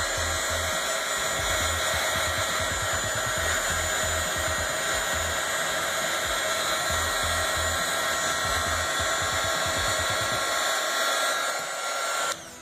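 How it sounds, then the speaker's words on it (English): A heat gun blows continuously while heat-shrinking material for DIY wedding signs, making a loud, steady whooshing hum with a whining tone that cuts out near the end. "Cut you a piece, place it where you want it, and turn on your heat gun."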